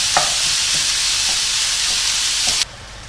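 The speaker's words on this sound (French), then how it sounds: "dans la même poêle, je vais verser ma viande hachée. Voilà. On la casse comme ça et on la fait" Minced beef fries in a pan with a steady, loud sizzle while a utensil scrapes and stirs it a few times, and the sizzle drops away sharply near the end.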